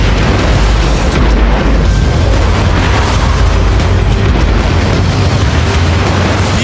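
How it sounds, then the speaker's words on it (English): The facade of a burning building collapses and tons of debris hit the ground, a continuous loud, rumbling roar of crashing and booming that fills the whole stretch without a break. "Fire crews retreat as the building's facade violently tumbles to the ground."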